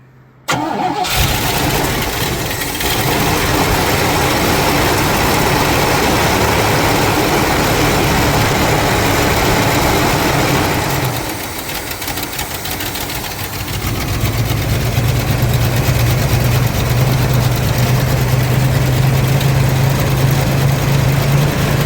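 A 1989 Oldsmobile Custom Cruiser wagon engine cranks, catches, then settles into a steady, loud idle, close by, with a brief dip partway through and no talking.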